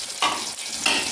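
Spring onion greens drop into a hot pan with roasted green chillies for a brinjal bharit and sizzle steadily, with a couple of louder bursts close by.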